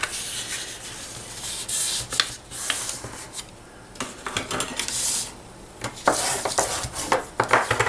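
Paper being creased and burnished for a chocolate spoon holder, close scraping and rubbing strokes in uneven bursts with light crinkling and no speech.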